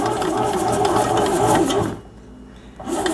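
A bread machine kneads sweet bread dough with a steady, loud mechanical whir and rhythmic churning, dipping briefly quieter near the end before resuming, with no talk.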